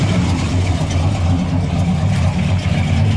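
A 1968 Cadillac hearse engine runs steadily up close, a continuous low rumble with a constant loudness, its vacuum hose patched with a piece of cardboard.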